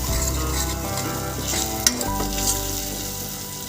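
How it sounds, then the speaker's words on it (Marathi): Ground spices (coriander-cumin powder, turmeric, red chilli powder and garam masala) sautéing in hot oil for a Marathi-style masoor dal amti, a loud steady sizzle with stirring scrapes and a small clink near the middle. "ते चांगले तेलात परतून घ्यायचे।"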